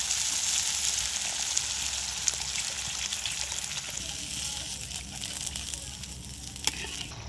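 Fried-down masala for a silver carp kalia hissing in a pan as water is poured in, a steady moderate sizzle mixed with watery trickling that slowly eases off.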